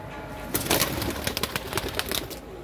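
Pigeons with feathered legs coo and rustle close by in a loft, a steady soft murmur with repeated short clicks and flutters throughout.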